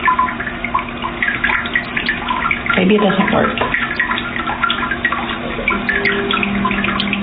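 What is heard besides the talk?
water spraying from Japanese bidet toilet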